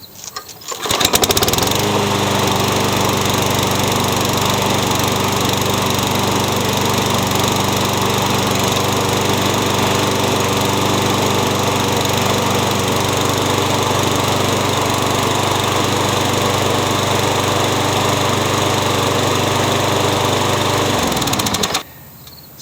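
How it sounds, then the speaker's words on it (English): A Toro Super Recycler lawn mower (model 20054) running on a donor engine, starting abruptly then holding a loud, steady buzzing drone close by for about twenty seconds before cutting off. "So my donor engine sounds pretty good."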